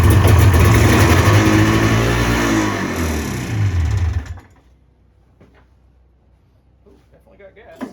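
A John Deere snowmobile engine starts and runs loudly for about four seconds with a revving, buzzing drone, then cuts out, leaving near silence with faint clicks.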